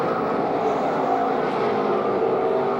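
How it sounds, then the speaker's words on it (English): NASCAR stock cars at Indianapolis Motor Speedway roll off pit road during the 2002 Brickyard 400, giving a steady, dense engine roar that holds at the same level throughout with no break. "all these cars exit pit road"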